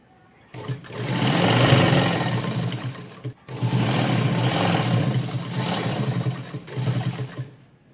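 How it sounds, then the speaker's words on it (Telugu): An electric sewing machine runs a straight stitch along a child's skirt waist seam, whirring loud and close in two long continuous bursts with a short pause between. "ఈ మూడింటిని కలిపి ఒక కుట్ట అనేది స్ట్రైట్గా వేసుకోవాలి"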